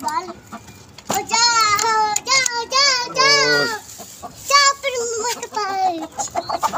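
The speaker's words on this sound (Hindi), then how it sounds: "मुर्गी" A hen clucks in short, pitched bursts close by, mixed with children's voices chattering around it.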